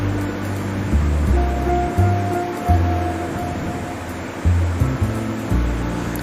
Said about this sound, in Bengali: এখন একটু ধুয়ে পরিষ্কার করে নেব